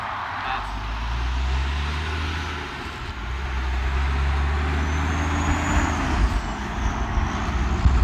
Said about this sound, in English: the big diesel engines are not quiet